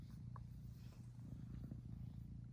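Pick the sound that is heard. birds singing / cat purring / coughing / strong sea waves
cat purring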